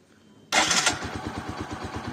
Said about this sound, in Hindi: देखो गाइस बाइक स्टार्ट है